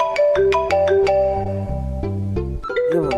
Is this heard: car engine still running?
no